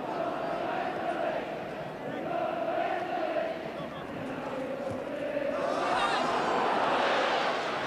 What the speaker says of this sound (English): The crowd breaking into, we're going to win the league.